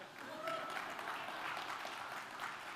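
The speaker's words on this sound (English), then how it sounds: "Clap, yeah?" Audience applause filling a conference hall at a UX design talk, a dense steady wash of clapping lasting a few seconds at moderate volume, with faint voices mixed in.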